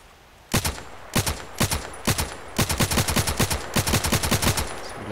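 Gunfire from the online shooter Contract Wars: a run of sharp, loud shots, a few spaced single cracks at first, then quicker bursts in a steady rhythm, with no talking.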